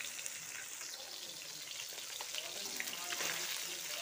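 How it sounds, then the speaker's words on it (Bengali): Bhetki fish frying in a kadai, a steady soft sizzle with faint crackling and a slight watery hiss, at moderate closeness, continuous throughout with no voices. "মাছ কড়াইতে বসাই দিচ্ছি। তো ভাজি হয়ে যাচ্ছে"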